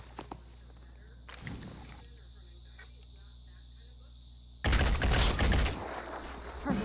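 Squad gunfire erupts in the tactical game Phoenix Point. A short burst of shots comes early, then a loud, sustained volley of firing follows over quieter ambient insect-like chirping.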